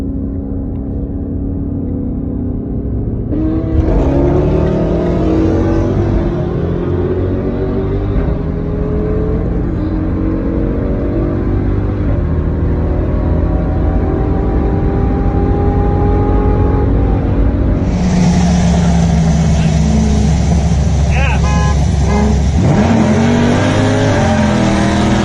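Turbocharged high-compression H22 engine in a Honda Civic revving hard, a loud, close roar rising and falling through repeated climbs, with a brighter, harsher surge in the last several seconds.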